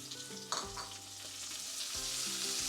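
Oil sizzles and crackles steadily in a pan over the heat, a close, even frying hiss with no voices, while bacon cooks for pork and beans.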